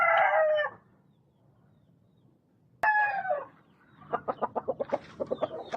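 A young backyard rooster crows twice in loud, close calls separated by a quiet pause, followed by a quick series of rhythmic clucks.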